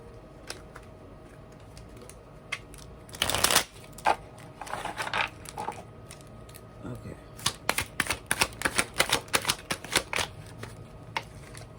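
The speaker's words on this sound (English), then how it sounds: "Couple of cards for our beautiful Leos." Tarot cards are being shuffled, first a long riffling burst, then a rapid run of crisp card snaps and flicks, close and clear, with a voice speaking in the background.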